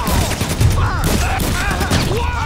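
Rapid bursts of gunfire from a GTA V Online PC mission fill the clip, loud and continuous with sharp overlapping shots and game effects, with no clear talk over them.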